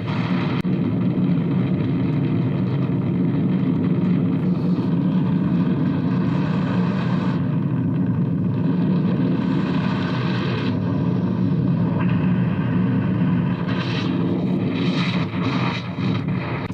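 A light aircraft buffeting in an aerodynamic stall fills the cabin with a loud, steady roar of engine and rushing wind that shudders unevenly, with no voices over it.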